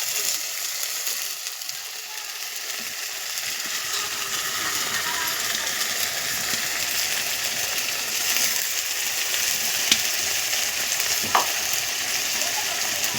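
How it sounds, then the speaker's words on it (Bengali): Sliced onion and ginger-garlic paste fry in hot oil for an eggplant curry. A steady, close sizzle hisses throughout, with a couple of small clicks from the pan near the end. "এবার এটা ভালো করে কষি নেব আমরা।"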